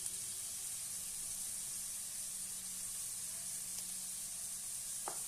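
Ginger garlic paste fries in hot oil for a country chicken curry, a soft, continuous sizzle and hiss with a faint stir scrape near the end, heard alone and quietly.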